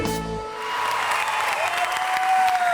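A television studio audience on a morning show breaks into applause after a song ends, a loud, sustained burst of many hands clapping that swells and holds to the end.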